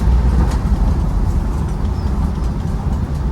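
A 1997 Land Rover Defender 90 300Tdi rolls to a stop on a gravel road, giving a loud, steady low rumble of engine and road noise heard from inside the cab, with no talking.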